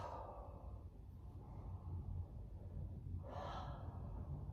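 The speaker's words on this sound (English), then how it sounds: "And breathe some deep breaths." Deep breaths are taken during a seated yoga twist, a long audible inhale or exhale at the start and another strong breath about three seconds later. Both are soft and close, with quiet room tone between them.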